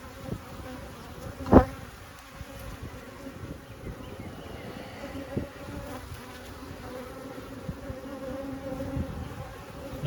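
An aggressive honeybee hive hums with a continuous close swarm buzz throughout, punctuated by a sharp knock early on and scattered light bumps as frames are handled.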